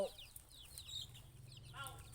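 Chickens clucking close by in a rural yard, several quick clucks and calls over a low background hum.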